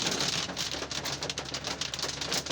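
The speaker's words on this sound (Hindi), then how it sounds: "गाड़ी की छत पे आवाज़ जो आ रही है" Hail clatters on the roof of a car driving through cold stormy weather in Nathiagali, a dense continuous patter of sharp rapid hits heard from inside.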